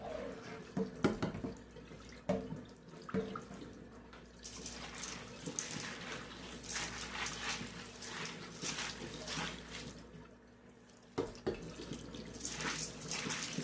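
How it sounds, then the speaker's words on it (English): Corn grain being rinsed under a running kitchen tap, a steady rush of water splashing into a sink with occasional louder surges and drips, no talking. "Just want to get it rinsed the best I can."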